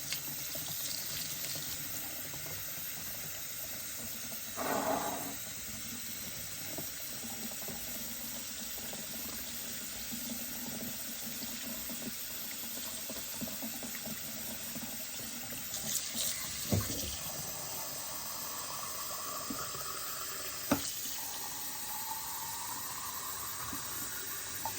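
Warm water running steadily from a kitchen tap into a container for dissolving sugar into bee feed, a continuous splashing stream with a few louder clunks and shifts in the flow.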